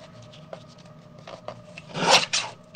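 Scissors or a trimmer cutting paper for a vintage folio, making a few soft rasping scrapes that build to a louder cutting stroke near the end, close by with no talk.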